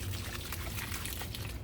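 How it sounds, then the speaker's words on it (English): Water pours steadily into a bucket of potting mix with Miracle-Gro and manure, a soft continuous splashing and trickling that lasts under two seconds, close and fairly quiet. "I'm going to give it some water"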